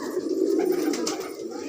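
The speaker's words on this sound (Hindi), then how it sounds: "ये देखिए भाई, कबूतर देखिए कैसा है ये।" Fancy pigeons cooing close by, a soft, continuous low burbling with a few small rustles, and no talking.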